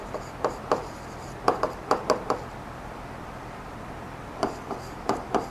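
Marker or chalk taps and strokes on a classroom board while writing out a geometry proof, coming in short clustered bursts separated by pauses, fairly faint over a quiet room.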